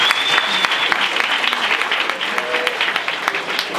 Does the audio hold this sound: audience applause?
yes